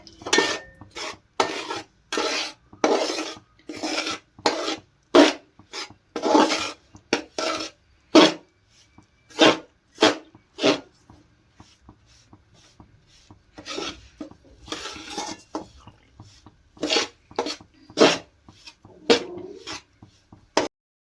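Besan (gram flour) is dry-roasted in a pan and stirred in repeated rasping scrapes, about one stroke every half-second. The strokes come in close steady runs with brief pauses, and no one speaks.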